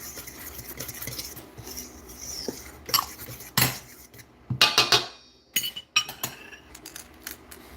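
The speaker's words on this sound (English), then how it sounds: "Then Mix it all together. just take a fork or a whisk, and just" Baking ingredients, including baking soda, being stirred together in a bowl with a fork or whisk: clinking, scraping metal-on-bowl strokes in irregular bursts, louder toward the end, with no talk.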